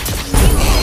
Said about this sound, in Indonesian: Bagus loh bunyi efek killnya tuh.